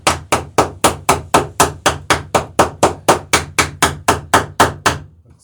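Hammer blows drive rivets on an Alpha Dory built from scarfed plywood, about sixteen sharp, evenly spaced strikes in a steady rhythm, each ringing briefly before the next, loud and close with no talk.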